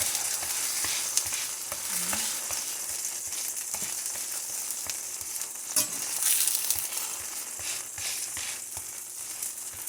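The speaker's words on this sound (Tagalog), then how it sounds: "Magluto tayo ng pancit." Pancit noodles cook in a hot pan with a constant close sizzle, broken by repeated scraping and stirring knocks throughout.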